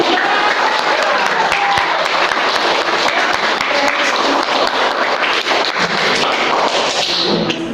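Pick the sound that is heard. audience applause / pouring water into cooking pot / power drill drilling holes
audience applause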